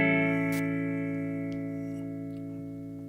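A single sustained guitar chord rings out through a tube amplifier simulator set to clean mode, smooth and steady with a slow natural decay and a faint pick noise near the start.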